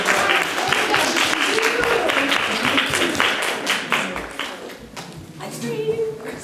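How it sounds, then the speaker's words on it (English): Studio audience at a live TV show applauding steadily in a dense wash of claps, tapering briefly before swelling again, with a voice speaking faintly underneath. "Let's applause."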